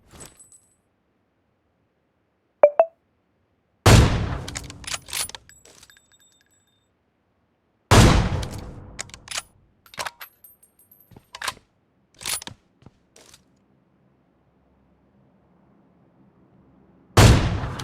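Several sharp, loud gunshot blasts in the video game BGMI come in bursts, separated by silence, with clicks and mechanical rattles between shots.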